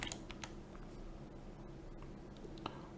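Keys clatter on a computer keyboard while a search term is entered in a mapping search field, a few faint scattered clicks over a low steady room hum, with no talk.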